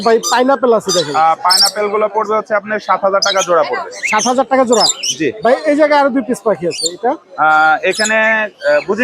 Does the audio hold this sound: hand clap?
no